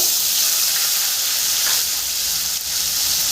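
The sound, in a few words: chopped tomatoes sizzling in a hot pan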